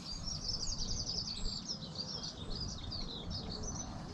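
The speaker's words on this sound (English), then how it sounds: "It's really peaceful here today with the birds, which is nice." Birds sing along the Tiverton canal just before sunrise, a steady stream of high chirps and twittering song that carries on without pause over a low, calm outdoor hush.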